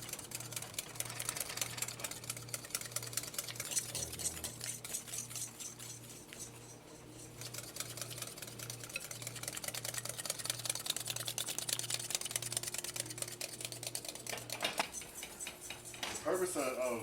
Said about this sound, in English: I'm gonna start whisking those eggs.